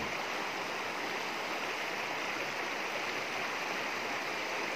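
Water in a rural mountain creek flows with a continuous broadband rush, steady and fairly close, with no voices over it.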